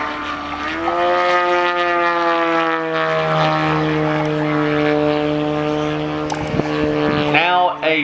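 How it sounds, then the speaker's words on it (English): Yak 54 scale model airplane pulling from a low-energy manoeuvre into a vertical climb at an air festival display, its engine drone holding a rising, steady pitch, loud and sustained under a commentator's voice. "straight into a vertical climb, showing just how powerful this aircraft is."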